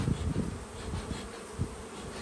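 Honeybees from a package buzz close by in a dense, steady hum while a box is being installed into a hive.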